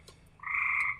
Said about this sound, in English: Do you hear the chirping coming? Here comes the frogs.